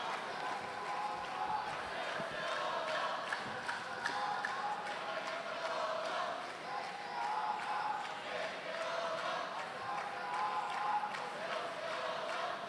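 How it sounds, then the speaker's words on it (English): Crowd noise from spectators at the World Judo Championships, a dense, steady roar of many voices with rhythmic chanting swells, heard throughout at moderate distance. "I wonder what they're chanting up there in the crowd there"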